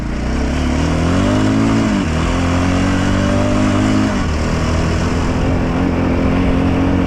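Motorcycle engine revving while riding, loud and close, with the pitch climbing and then dropping as the throttle changes, sustained over several seconds with no voices.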